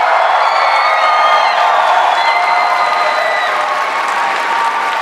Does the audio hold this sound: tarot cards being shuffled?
no